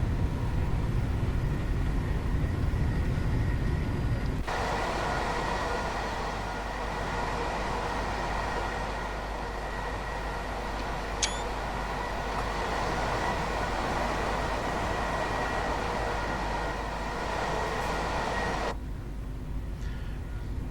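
A Class 377 electric passenger train runs on the Sutton & Mole Valley Line in the Train Sim 2021 video game, a steady, loud rolling rumble and motor whine, with a cab-interior change in tone partway through and no talk.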